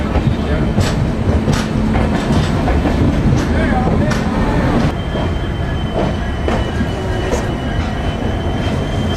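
A Humsafar Express train rolls along the rails with steady loud rumble, rhythmic wheel clicks and occasional squeals, heard from on board.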